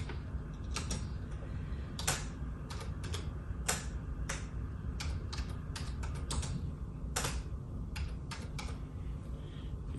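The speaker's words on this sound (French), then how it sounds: "je suis en train de taper comme ça" Rapid keystrokes on a computer keyboard, a quiet, irregular run of light clicks and taps continuing through the whole stretch over a low room hum, with no voices.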